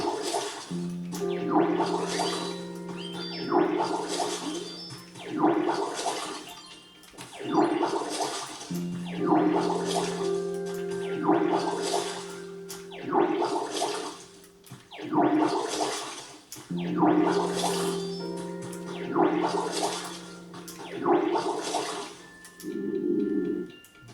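Watering in the video game Pokémon Pokopia: repeated splashing, pouring water bursts, each lasting a couple of seconds with a steady tonal hum beneath, recurring rhythmically about eight times, loud and alone.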